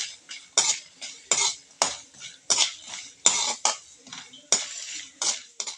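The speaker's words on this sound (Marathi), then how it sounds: "आता आपण त्याच कढईमध्ये धने भाजून घेत आहोत अगदी लालसर होईपर्यंत" Coriander seeds dry-roasting in a wok on a low flame, stirred with rhythmic scraping strokes, about two per second, loud and close with no voices.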